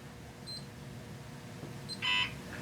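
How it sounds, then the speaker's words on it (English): A Seaward PV150 solar tester beeps while pairing, two short high electronic chirps, one faint early and a louder double beep near the end, over a quiet room background. "You can see the 150s now beeping at me."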